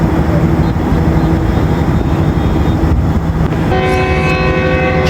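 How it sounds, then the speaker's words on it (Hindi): Departure whistle of the Baba Fareed Express, 38 DN, from Lahore Junction on a branch line. A sustained tonal blast sounds toward the end over a loud, steady rumble of the idling train at a station. "चलिए जी इनिशियल डिपार्चर विसल हो गया।"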